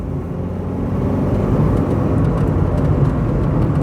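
A Proton Iswara Aeroback with a 1.5 litre Mitsubishi Magma engine drives along, its low engine drone and road rumble steady and fairly loud from inside the car, with no talk.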